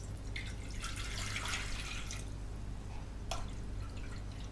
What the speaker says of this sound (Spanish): Ponemos un cazo al fuego y vertemos el agua.